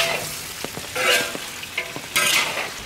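A large duck stir-fried with water bamboo shoots in a wok gives a bright, crackling sizzle in bursts as the pieces are tossed, with a few soft utensil knocks between them, close and clear.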